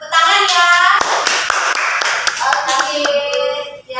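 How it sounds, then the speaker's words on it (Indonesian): Schoolchildren clap their hands in a classroom after a teacher's prompt, with sharp irregular claps mixed with children's voices and chatter, loud and close, tapering toward the end. "Tepuk tangan ya"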